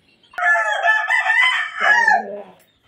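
A spangle round head gamecock crows once, loud and close, a strained two-part call lasting about two seconds.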